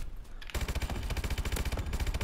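Automatic gunfire in the Call of Duty Advanced Warfare video game, with a short pause before a sustained burst of rapid, evenly spaced shots, close and punchy, no talking.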